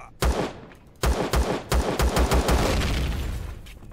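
Gunfire in the Empyrion space survival game during a missile silo raid: a string of sharp, loud shots, some in quick succession, with a rumbling tail fading out at the end. No voices.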